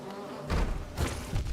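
A cannon bee enemy in Hollow Knight gives a short buzzing drone with soft thumps, two or three quick bursts close by, alone without talk.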